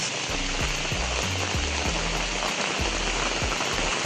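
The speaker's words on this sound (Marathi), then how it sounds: "बघा खूप म्हणजे खूप पाऊस पडतोय" Heavy unseasonal rain pours steadily in a Konkan village, a dense continuous hiss with occasional louder drops and drips close by.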